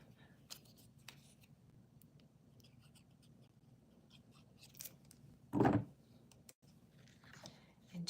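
Scissors snip through a piece of plaid paper in a quiet craft room, a short close crisp cutting rasp standing out over soft background hum and faint handling noises.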